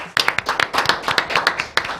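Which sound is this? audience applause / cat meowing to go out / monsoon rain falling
audience applause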